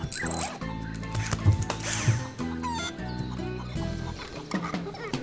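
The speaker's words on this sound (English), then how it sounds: "Why is there a chicken? Why do I hear a chicken?" A chicken clucks repeatedly in the video game Escape from Monkey Island, sounding mid-level over background game music and effects.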